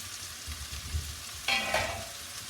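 Mushrooms cooking in a pan for chicken risotto give a soft, steady sizzle with light stirring scrapes, and the sizzle swells briefly when the pan is moved. There is no talk.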